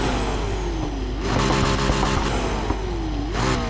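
McLaren P1 with a 3.8-litre twin-turbo hybrid V8, driven in the racing game Need for Speed Heat, revs loudly and continuously, with rising and falling engine pitch as it shifts through gears.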